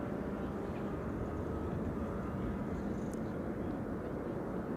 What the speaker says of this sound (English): Instead of going to runway 18 right, they're continuing to the east and are going to land here.